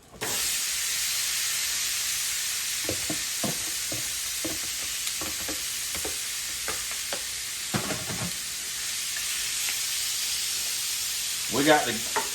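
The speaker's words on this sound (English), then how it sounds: "I like to drop them wings in some canola oil. It helps crisp up the outside." Steady loud sizzling of chicken wings frying in hot canola oil, with scattered clicks and scraping sounds over the constant hiss.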